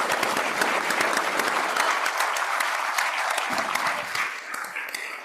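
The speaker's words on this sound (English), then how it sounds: "these guys really deserve a standing ovation, a round of applause" An audience at a business plan competition claps for the participants in sustained, dense applause that stays strong before tapering slightly at the end.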